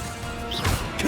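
Expelliarmus spell striking in the video game Hogwarts Legacy, a short crashing hit with a bright whoosh over a steady game background, fairly close and loud for about a second.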